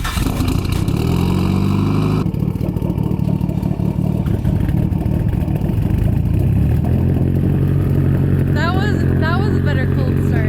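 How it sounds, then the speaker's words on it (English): Mitsubishi Evo 10 with a loud aftermarket exhaust on a cold start, a loud continuous rough idle and engine drone that shifts tone partway through, close up with people talking over it. "That was a better cold start. This one's louder, I think."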